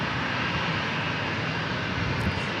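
Aircraft engines roaring as a plane makes a crosswind landing at San Diego airport, a dense steady rumble held at constant loudness throughout, with no talk.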